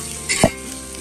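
Pav bhaji vegetables stirred in a hot pan give a short scrape and sizzle burst, close and fairly loud, then settle into a low frying hiss.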